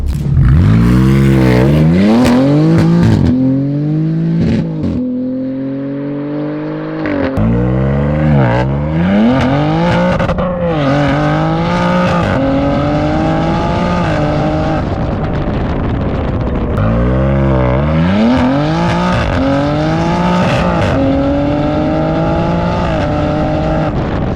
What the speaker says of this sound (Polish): posłuchajcie, jak pięknie brzmi ten nowy układ wydechowy